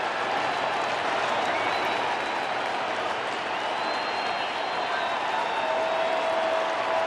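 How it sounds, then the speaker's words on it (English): Steady roar of a large crowd cheering and applauding at a St. Louis Cardinals spring training baseball game against the Toronto Blue Jays, loud and continuous throughout with no break. "Listen to the crowd in St. Louis."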